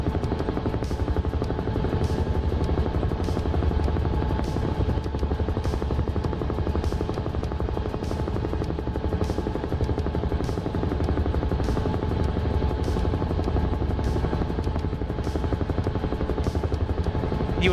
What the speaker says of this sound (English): Goodbye, helicopter.